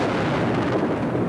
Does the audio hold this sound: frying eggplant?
no